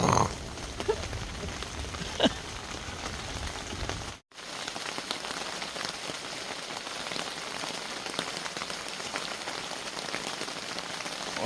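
Steady rain patters and hisses on a tent at a wild camp during a thunderstorm, a dense close wash of drops with a few sharper hits and a brief drop-out midway.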